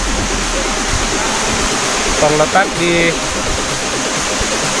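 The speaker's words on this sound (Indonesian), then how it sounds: "Sekarang kita berada di lokasi air terjun Bulu tanah ya teman-teman." The Bulu tanah waterfall in Bone roars as a steady, loud rush of falling water, with someone speaking over it.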